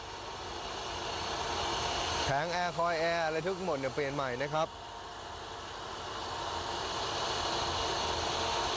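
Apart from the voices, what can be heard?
Mercedes V8 engine idling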